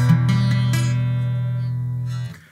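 A beginner's six-string guitar chord strummed slowly, fretted poorly so strings buzz and ring unevenly; one sustained, close chord with a few stray strum attacks, decaying gradually with no talking.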